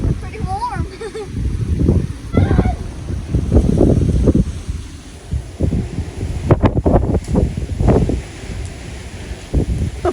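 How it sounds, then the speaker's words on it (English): Strong wind on the Texas Gulf Coast during a tropical storm, buffeting the microphone in heavy, uneven gusts that roar throughout while people talk over it. "The wind just picked up so much."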